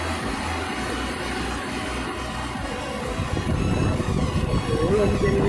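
An air-conditioner fan repurposed as a household fan blows a strong, steady roar of wind close to the mic, a continuous rushing noise that grows slightly louder and rougher toward the end.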